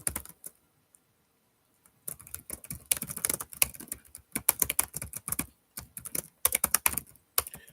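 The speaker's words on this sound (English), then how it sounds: "I know the typing sound and it's not super engaging for watchers" Someone typing on a computer keyboard, close and clear, in irregular bursts of rapid clicking keystrokes with short pauses after a few isolated taps at the start.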